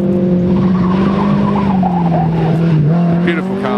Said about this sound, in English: Beautiful car, the Chevron V8